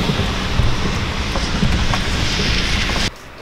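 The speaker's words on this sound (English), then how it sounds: "So it's raining like a bitch outside." Heavy rain falling outside, a dense, hissing patter that stays loud and constant, then drops off sharply to a quieter hiss just before the end.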